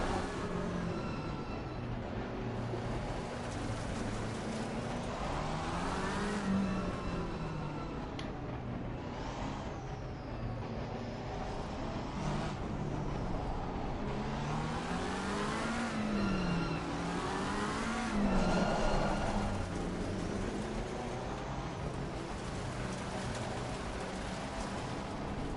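McLaren race car engine in Assetto Corsa Competizione at Monza, revving continuously with rising and falling pitch through gear changes, loud and steady with no talk.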